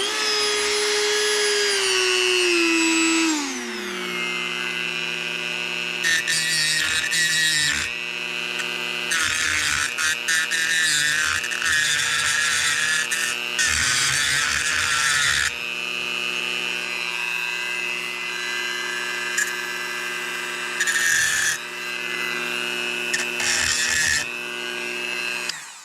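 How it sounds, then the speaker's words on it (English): A Dremel rotary tool grinds a burr off an engine valve from a John Deere STX 38, with a high steady whine that spins down early, then comes back in repeated close bursts of grinding. "I'm thinking Dremel for that. Just take the burr off of it."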